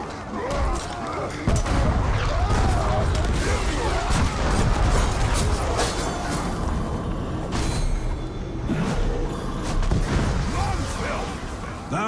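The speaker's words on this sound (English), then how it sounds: "Bloody grog's blown up!" Grog barrel blowing up in the video game Shadow of War: a sharp blast near the start, then a dense, loud clamor of battle noise and shouting voices that carries on throughout.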